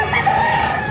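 A rooster at a chicken market in Baliuag, Bulacan crows once, loud and close, in a short strained call with no talk over it.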